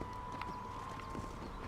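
Horses in Red Dead Redemption beat out quick, soft clip-clop hooves as they are herded, a faint rhythmic patter at moderate distance.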